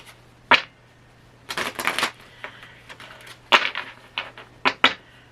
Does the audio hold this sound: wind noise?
no